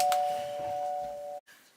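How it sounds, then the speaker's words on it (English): A home doorbell rings indoors with a clear sustained electronic tone that cuts off abruptly, followed by a faint softer chime. "my doorbell went"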